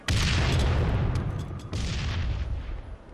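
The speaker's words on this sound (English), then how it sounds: "You use a frag grenade," Frag grenade explosions in Halo 3, two loud, close booms about a second and a half apart, each with a sharp onset and a rumbling low-end decay, no talking.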